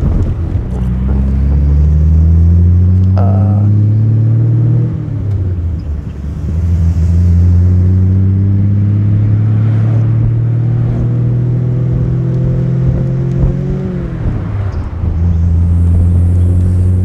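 A 1937 Maybach SW 38 Cabriolet on the move: a deep, steady engine drone rises in pitch, drops back at gear changes around five and fourteen seconds, then climbs again, with wind rushing across the microphone and no talking.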